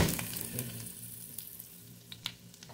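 Minced garlic hits hot butter with an immediate sizzle that fades to a softer, crackling fry, dotted with a few sharp pops and spits near the pan.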